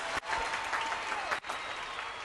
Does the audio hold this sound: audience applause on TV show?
yes